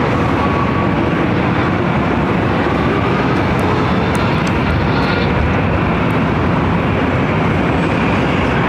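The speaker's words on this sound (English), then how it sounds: "Airlines 3606 coming in from San Jose on a 737-700" A Boeing 737-700 airliner arriving at LAX from San Jose roars loud and close, a dense continuous engine rumble and hiss that holds steady throughout with no voices.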